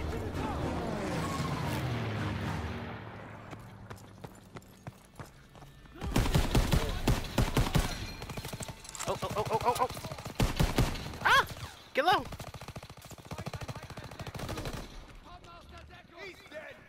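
Rapid bursts of gunfire in Call of Duty WWII, with long machine-gun rattles and scattered shots; a voice talks over the early part before the loud, dense firing takes over.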